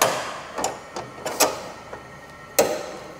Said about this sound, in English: It rolls back in here and then it rolls back into the machine like this. Lock it back with a latch